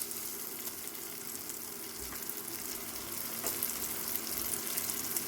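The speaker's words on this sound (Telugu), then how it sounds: "మంచిగా ఇది అల్లం వెల్లిగడ్డ కూడా మంచిగా దాంట్లో వేగిపోయింది" Ginger garlic paste frying in a pan for a yogurt chicken curry, a continuous soft sizzle with light crackles, close and steady, slightly louder toward the end.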